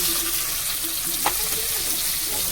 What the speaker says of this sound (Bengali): পেঁয়াজটা হয়ে গেছে, এবার টমেটো কুচিটা দিয়ে দিচ্ছি।